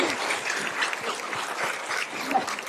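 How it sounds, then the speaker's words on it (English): A lecture audience at an astronaut's talk claps steadily and fairly evenly for a few seconds, a dense patter of hands at moderate volume. "Because they will applaud you again,"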